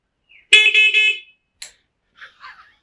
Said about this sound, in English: Loudest horn in the country. Do you want to have a listen to it?